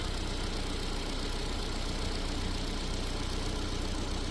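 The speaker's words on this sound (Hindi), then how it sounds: "आवाज किस लिए कर रही है, बेल्ट क्यों चिट चिट चिट कर रहा है।" A car engine idles steadily at close range, its constant mechanical hum running evenly without pauses; a drive belt is chirping, though the chirp is not distinct within the engine noise.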